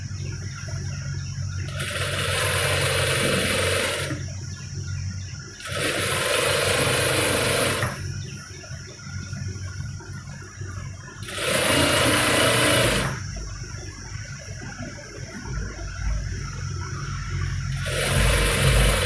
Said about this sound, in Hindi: यहाँ पर हम मोंट की सिलाई लगा देंगे